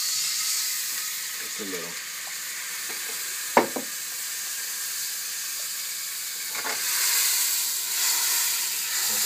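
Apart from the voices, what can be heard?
sherry added to a very hot pan, sizzling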